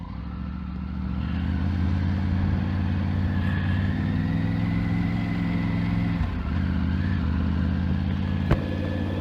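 A Triumph Tiger 900 Rally Pro ridden at low RPM: a steady, deep engine drone with a low rumbling hum throughout, a slight dip in pitch near the middle and a brief click near the end, no talk.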